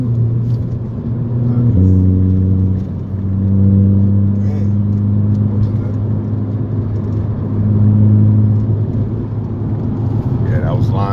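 A Volkswagen GTI with a turbo muffler delete and upgraded discharge pipes launches hard from a stop, its engine droning loudly up through the gears in long rising pulls, with people talking in the cabin.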